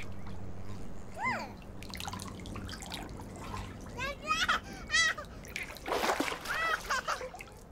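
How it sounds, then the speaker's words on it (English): Water splashes and drips in a backyard paddling pool, with a series of short, close splashes and trickles that grow busier toward the end, mixed with bird chirps and a voice. "More splashes."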